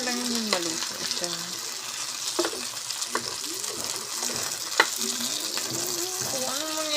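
Eggplant cooks in a pan with a little water, giving a steady soft sizzle and bubbling throughout, with scattered clinks and a voice talking over it.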